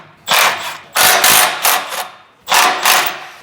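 A ratchet wrench loosens exhaust clamps on a Mercedes E63, giving four bursts of rapid clicking: two close together, a pause, then two more, sharp and close.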